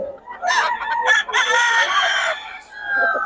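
A rooster crows loudly and close among chickens offered for sale at a market, a drawn-out cock-a-doodle-doo with clucking and other fowl calls behind it.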